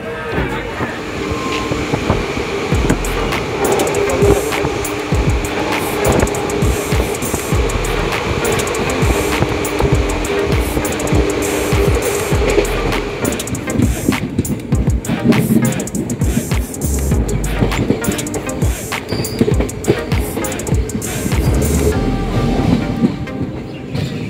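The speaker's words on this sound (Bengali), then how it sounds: "তো এখন আমাদের black diamond train Howrah Dhanbad local ছেড়ে বেড়াচ্ছে সারাপুর স্টেশন" The Black Diamond Howrah–Dhanbad local train runs out of Sarapur station, with a loud, continuous rumble, rattle and wind roar from on board and rhythmic wheel clunks throughout.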